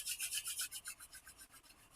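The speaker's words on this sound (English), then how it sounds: "Rubbing the palms of the hands together." Two palms rub briskly together in a steady back-and-forth rhythm, a soft close-up swishing friction that slowly fades over about a dozen strokes during a quiet meditation.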